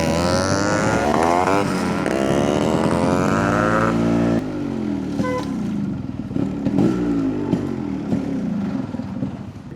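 A Yamaha RX100 motorcycle out on a ride, its two-stroke engine revving and shifting up in rising pitch sweeps, then settling into a steadier drone with wind noise.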